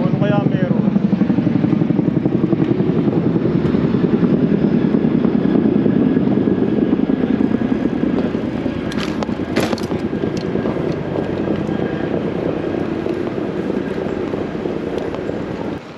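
Several helicopters fly overhead above a closed road, a loud pulsing rotor drone that holds strong for several seconds, then eases slightly as it recedes.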